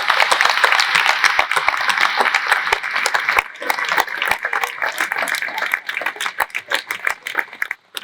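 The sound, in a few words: audience applause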